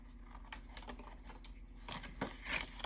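Scissors snip through paper in a quick run of cuts, rounding off the corner of a journal pocket made from an 8x8 paper pad; close and moderately quiet, with no talking.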